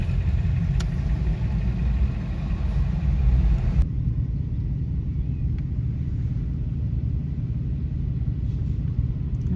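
Inside a car stopped in traffic at a roadworks zone, a steady low engine rumble fills the cabin. A brighter background hiss cuts out partway through, leaving only the deep idle drone.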